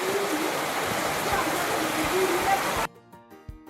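Steady rain falls at a Maasai Mara safari camp, a dense even hiss that stops abruptly near the end, leaving quiet ambience.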